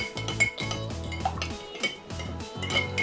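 Fruit chaat being stirred in a bowl with black salt, a spoon clinking and scraping against the dish in quick repeated strokes over a musical backdrop.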